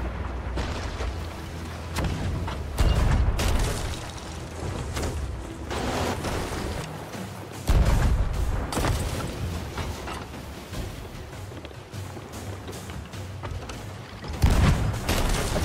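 Heavy booming cannon fire in the Sea of Thieves video game during a sloop versus brigantine battle near a skeleton fort, loud blasts over a constant rumbling game backdrop, without speech.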